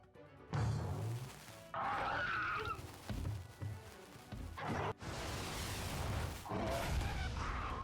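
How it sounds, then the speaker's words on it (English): A fully charged kinship skill explosion in the Monster Hunter Stories 2 video game, heard as several loud booming, crashing bursts with rumbling tails over a game soundtrack. "we've got explosion coming in"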